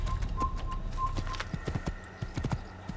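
A horse's hooves clip-clop in the Assassin's Creed video game, a quick uneven run of hollow knocks joined near the end by a short whinny, with faint bird chirps behind.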